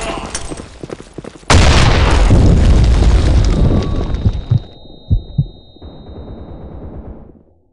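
A grenade blows up in the online shooter BlackShot: a sudden, loud, full-range blast that rolls into a long rumbling tail, then a few scattered thuds and fainter crackles as it fades.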